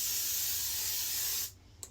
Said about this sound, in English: Now I'm going to set my face with the 32-hour setting mist by L'Oreal.